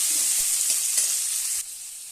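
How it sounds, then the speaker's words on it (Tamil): Tomatoes sautéing in a pan for okra tamarind kuzhambu give off a bright, constant sizzle with a few soft stirring bumps, then the frying noise drops noticeably quieter near the end. "போட்டு நல்லா வதக்கிறேன்."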